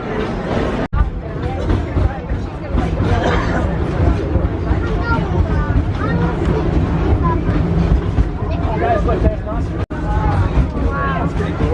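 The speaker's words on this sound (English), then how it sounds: "Here's our train." A Disney Animal Kingdom train to Rafiki's Planet Watch pulls into the station, its rumble and clatter blending with crowd chatter and nearby voices talking throughout.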